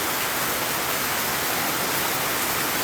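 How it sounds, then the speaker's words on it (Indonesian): Heavy rain pouring down in the forest on Gunung Salak, a dense, unbroken hiss of drops on leaves and ground, loud and steady with no talking. "Sumpah semakin hujan semakin kerasa cuk."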